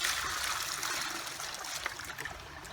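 Creek water trickles and splashes steadily as gravel is rinsed during gold panning, a close, continuous wet wash with no talking.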